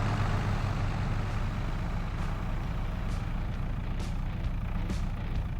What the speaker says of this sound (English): it's weird driving this telehandler